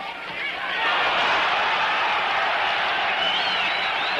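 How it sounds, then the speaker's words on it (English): A boxing crowd at a Floyd Patterson vs Jimmy Ellis bout roars in a sustained, dense wave of yelling and cheering that swells early and holds loud throughout, with scattered whoops rising above it. "The crowd will yell every time Floyd even seems to land"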